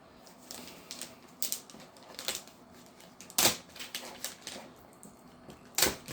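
A knife cutting through tough plastic packaging on a Tyco Johnson Wax train set, heard as close, irregular snaps, scrapes and crackles with sharper clicks here and there.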